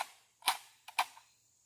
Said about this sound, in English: Go ahead and drop the mag.